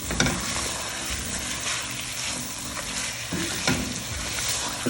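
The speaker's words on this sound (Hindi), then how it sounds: "नज़र आ रहा है हमारा आलू फ्राई हो चुका है, भुनाई हो चुकी है इसकी" Potatoes fry in a pan of hot oil for an egg and potato curry, a steady loud sizzle running throughout with a few stirring scrapes and no talking.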